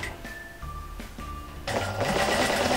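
A sewing machine stitches the final seam of a quilt block, starting with a few whirring bursts and then running on in a steady, dense, mechanical hum. It is heard close up.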